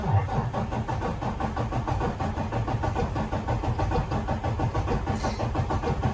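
Diesel DD15 truck engine cranking on the starter during a compression test, a loud steady rhythmic chugging that continues unbroken with no speech over it.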